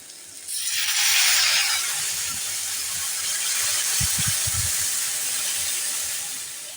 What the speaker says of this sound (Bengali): এবার আমি গরম জলটা দিয়ে দেব।